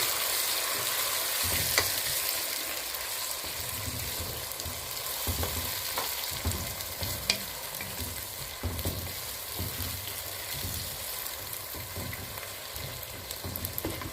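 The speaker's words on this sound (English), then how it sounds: "Here are the tomatoes, there we go. Give it a good mix." Tomatoes stirred into a sizzling pan while cooking githeri: a steady, close frying hiss runs throughout, with scraping stirs and soft spoon knocks repeating at irregular intervals and no talk.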